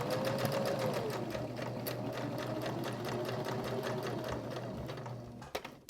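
A sewing machine running a steady straight stitch while sewing a small portable tic-tac-toe game project, a continuous close mechanical whir with rapid needle ticks that stops abruptly near the end.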